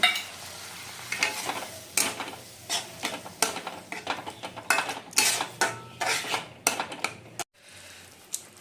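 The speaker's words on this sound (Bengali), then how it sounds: "আর এখন মশলাগুলোকে ভালো মতো কষিয়ে নেব।" Spices for koi fish curry sizzle in a pan while a spoon scrapes and stirs in repeated strokes, close and clear, with a short quiet gap near the end.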